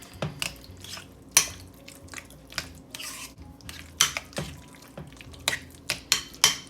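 Casserole ingredients stirred together in a dish: scattered wet squelches, clicks and light utensil taps come in irregular bursts, fairly close and otherwise quiet, with no talking.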